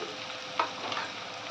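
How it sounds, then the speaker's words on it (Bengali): Garlic paste frying with onions in a pan gives a soft, continuous sizzle with a small stirring clack near the start, close but quiet. "ভালো করে পেঁয়াজের সঙ্গে এবার ভেজে নেব"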